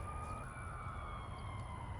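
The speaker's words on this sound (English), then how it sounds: "There are sirens in the distance." An ambulance siren sounds far off, a faint, steady wailing tone that sits low beneath a constant background hum and never comes close.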